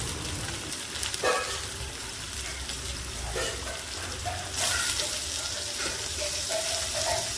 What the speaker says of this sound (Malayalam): വെളിച്ചെണ്ണ ഒന്ന് ചൂടായതിന് ശേഷം രണ്ട് സവാള കട്ട് ചെയ്തത് ചേർത്ത് കൊടുക്കണം